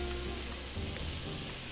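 Faux filet mignon steak sizzling in a hot pan, a dense, steady frying hiss filling the short moment at close range with no talk.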